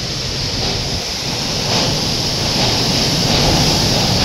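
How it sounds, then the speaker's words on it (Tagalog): Super typhoon wind swirls and roars loudly around a house as roofing sheets fly from nearby homes, a thick unbroken rush that swells slightly toward the end, with no voices. "Ngayon lang ako nakaranas ng ganito kalakas na hangin"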